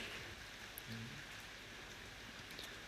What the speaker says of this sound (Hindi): आज बारिश भी हो रही है।